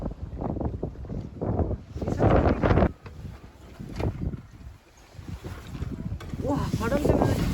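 Strong gusting wind on an Austrian Alps hike, buffeting the microphone in loud rushing bursts that rise and fall, with people talking in between.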